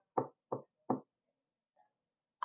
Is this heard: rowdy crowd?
no